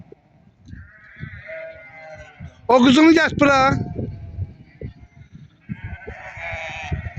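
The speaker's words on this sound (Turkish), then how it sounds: "Orada koyun var." A sheep bleats twice in quick succession at a sheep market, loud and close, while people talk quietly before and after.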